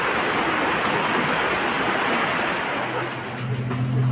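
Heavy rain pours in a dense, steady hiss, roaring evenly throughout with a low rumble rising near the end.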